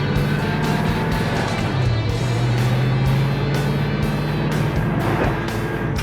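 An old Ford Mustang GT coupe cruises down the road with a steady, close engine drone and tire roar that holds evenly throughout, a low hum rising slightly midway.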